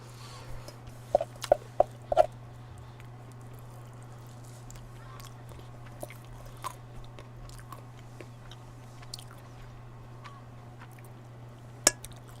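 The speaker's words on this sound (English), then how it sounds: "I am eating quinoa and seaweed" Someone eats quinoa and seaweed, with scattered soft chewing and crunching sounds and a few sharper clicks against a quiet background with a low steady hum.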